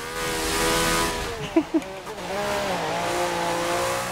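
Race cars in the Forza Motorsport 7 racing game speed along a rain-soaked track, engines droning and shifting pitch, with a couple of sharp tire squeals and skids breaking through midway.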